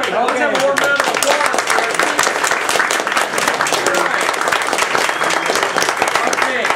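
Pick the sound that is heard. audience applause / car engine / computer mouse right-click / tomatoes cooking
audience applause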